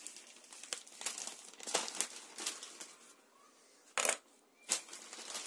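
A plastic courier mail bag holding a parcel from China is handled and unpacked, giving close, irregular crinkling and rustling bursts with a couple of sharper crackles, no speech.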